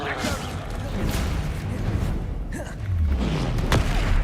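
The Descendo spell in the video game Hogwarts Legacy lands as a deep, rumbling thud, with whooshing magical noise around it and a voice heard under the effect.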